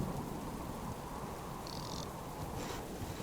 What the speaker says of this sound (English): I know it's raining, guys.